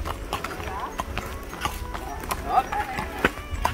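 A 15-year-old horse walks along on a ride near Subic Bay in the Philippines, its hooves clip-clopping in an uneven steady rhythm close by while people talk over the hoofbeats.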